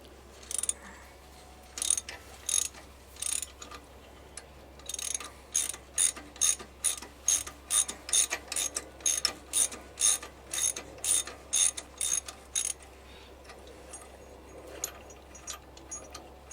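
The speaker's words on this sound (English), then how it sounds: "Hold on just a moment while I work this ratchet." A hand ratchet is worked on the chain of a jaw crusher at a mine, giving a run of sharp, evenly spaced clicking strokes, close and loud over a low steady hum, pausing briefly between bursts.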